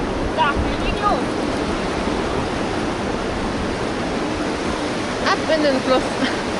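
River water rushes in a steady, loud broadband roar in a Kyrgyz mountain valley, with faint brief voices surfacing over it now and then.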